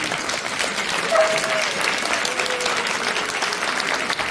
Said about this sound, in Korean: 마지막 큰 박수 부탁드리겠습니다